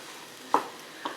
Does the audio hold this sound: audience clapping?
no